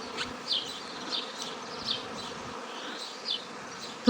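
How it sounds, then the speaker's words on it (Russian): A steady, dense buzzing of many bees fills the air, with individual insects droning louder as they pass close by. "Опять пчелы разделяются."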